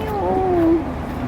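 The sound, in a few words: cat meowing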